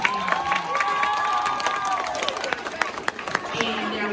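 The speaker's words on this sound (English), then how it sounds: "I want you all to give a big round of applause to your peers" A middle school crowd claps and cheers for their peers, a lively wash of applause and excited hubbub with scattered shouts and a bright ringing tone, while a voice talks over the noise.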